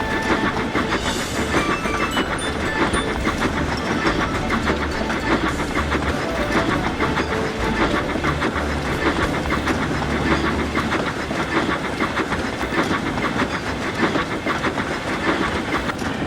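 A train engine moves through the railway yards with a continuous loud rumble and a steady rhythmic clatter of wheels, mixed with hissing.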